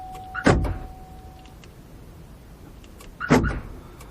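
Car door shut twice, each a solid thump with a short rattle, heard close during a Viper remote entry key fob programming routine, separated by a quiet pause.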